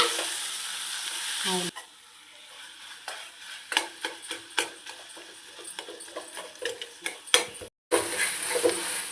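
Gongura chutney sizzles steadily in hot oil on a stove while a utensil stirs it, knocking and scraping against the pan in irregular clinks over the constant frying hiss.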